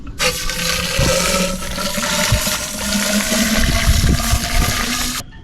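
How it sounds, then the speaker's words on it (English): High-pressure water rushes steadily through a watermaker membrane canister on a sailboat, a loud continuous spraying and gushing with some knocking and gurgling, stopping abruptly at the end. "I'm just gonna run some high pressure water through it to clean it out a little bit."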